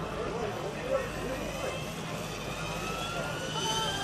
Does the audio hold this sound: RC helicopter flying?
yes